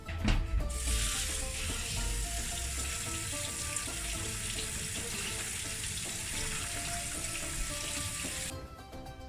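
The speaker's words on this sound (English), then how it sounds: "First of all, I'm going to wash the potatoes" Running tap water pours steadily into a sink for several seconds, with faint knocks and rubbing of potatoes being rinsed, then stops.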